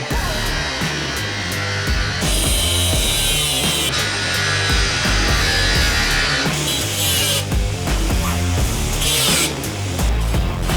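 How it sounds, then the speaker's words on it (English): Angle grinder cutting off old screws during a budget van build: loud, continuous power-tool whine with shifting pitch and bursts of grinding, close and steady throughout, with no talk. "A couple of screws that need angle grinding off."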